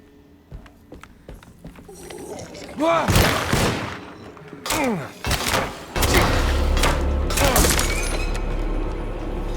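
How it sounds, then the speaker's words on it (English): Gunshots in the Alone in the Dark video game, a few loud separate blasts mixed with a panicked voice and dense game sounds that grow into a constant roar. "Oh, my weapon, it broke! I made a panic shot."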